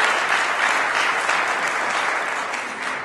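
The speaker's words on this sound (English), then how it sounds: "a round of applause for Peter" Steady, full applause from a concert audience at a university alumni saxophone music event, filling the whole stretch without any voices.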